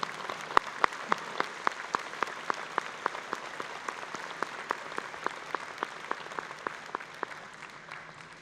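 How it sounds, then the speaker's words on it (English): Steady round of applause from a graduation audience at a high school commencement ceremony, sustained clapping heard from a distance with sharper individual claps standing out above the crowd throughout. "I would like for those individuals to stand and give them a wonderful round of applause for all of their hard work."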